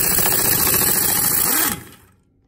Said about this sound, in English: And that's well one bigger air compressor. All right. Air compressor is at full pressure.